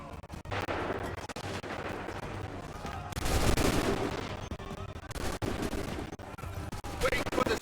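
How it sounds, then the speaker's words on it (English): A musket volley rings out on a battlefield in the Assassin's Creed III video game. Sharp gunshots crack over a busy game din and swell into a loud burst of massed fire midway, then scattered shots continue. "Open fire."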